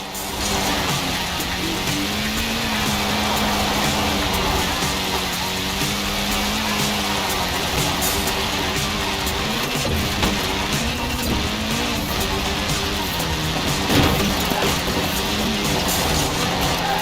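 A front-wheel-drive Mini in Forza Horizon 4, its engine droning steadily and loud with shifting revs and tyre noise as it slides, continuous throughout without talk.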